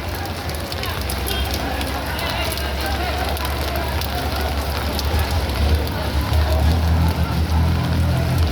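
Steady rain pours over an outdoor cattle market in Padre Garcia, Batangas, a loud, unbroken hiss that holds throughout while people talk beneath it.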